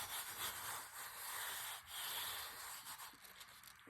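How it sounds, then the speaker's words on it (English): Glued napkin paper is rubbed down by hand in soft, continuous swishing strokes, close and quiet, with a few rhythmic swells and no voices. "you can just rub it with your hand"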